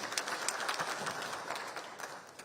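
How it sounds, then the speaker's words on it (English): Audience applause rises as a speaker comes up at a PBO Week gathering at KICC in Nairobi, a steady patter of many hands with scattered sharper claps, moderately loud and continuous throughout. "A round of applause as he comes."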